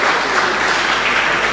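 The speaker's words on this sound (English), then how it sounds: "A huge round of applause to our own Professor" An audience at a book launch for Professor Arthur Mutambara's book on AI and the Global South gives him a round of applause. Loud, sustained clapping fills the whole moment with no speech over it.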